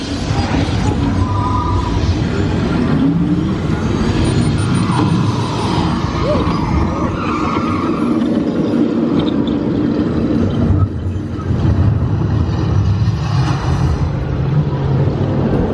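Test Track ride vehicle at Epcot rumbling through its off-road and extreme weather sequence, a loud, steady roar of motion and wind noise with scattered clatter and faint voices mixed in throughout.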